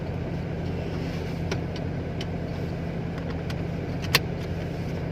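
A Toyota Crown Super Saloon with a 3000cc 2JZ turbo engine idles smoothly and quietly in a steady low hum heard from inside the cabin, with a few small clicks and knocks and no talking.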